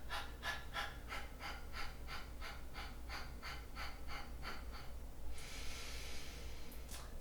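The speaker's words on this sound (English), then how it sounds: "just take a deep breath and then let a little out" A slow, deep breath in followed by a short partial release during a calm yoga exercise, the breath sounds rhythmic and close against a steady low hum, with a brief hiss of exhale near the end.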